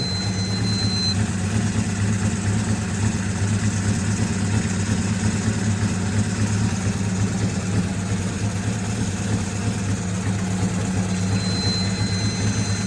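A Suzuki GS550 motorcycle engine, a cold barn-find bike still being tuned, idles steadily with a deep, even low rumble and lumpy exhaust pulse throughout, close and continuous with no talking.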